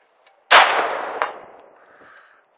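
A single sharp Saiga 5.45x39 rifle shot, loud and close, with a long decaying echo and a faint metallic clang of the bullet striking a steel target 160 yards away.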